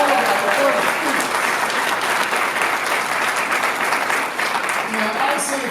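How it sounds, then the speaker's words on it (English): An audience at a spoken-word and blues concert at the Halifax Public Library claps for the performance students, a full, even round of applause sustained throughout, with faint voices and a few cheers mixed into the crowd noise. "So, round of applause for all of our performance students."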